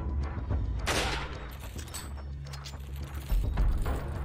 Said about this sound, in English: Can't I just shoot him with the rifle?